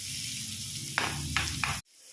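Chopped onion sizzles in a pan with butter and oil, giving a steady close hiss broken by three short louder bursts as it is stirred, then it cuts off abruptly.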